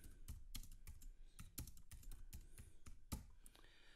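Someone typing a name on a computer keyboard, a quiet, close run of irregular key clicks and taps with short pauses between bursts, no voices.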